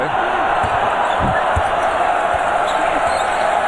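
A packed basketball arena crowd at Wukesong Stadium in Beijing during the 2008 Olympics sends up a loud, steady roar for the Mexican wave, with a few ball bounces thudding faintly beneath it.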